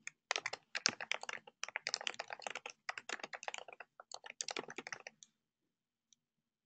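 Fast computer keyboard typing for about five seconds, a steady run of crisp close key clicks with brief pauses, then silence apart from one last isolated click.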